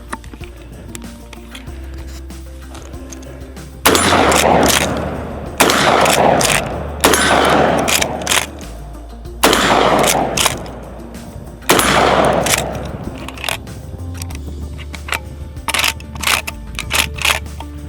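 Lever-action rifle gunshots outdoors, five loud sharp blasts a couple of seconds apart, each with a ringing decay and scraping of cycling the action between shots.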